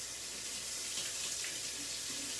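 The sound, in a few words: water running from a tap to wet a cleaning cloth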